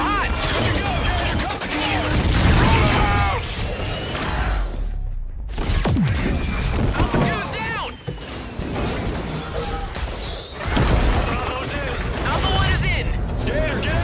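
Heavy gunfire and explosions from a port landing battle in the video game Call of Duty: Infinite Warfare, with loud continuous bursts, crashes and whooshes and a short lull midway, under a voice narrating throughout.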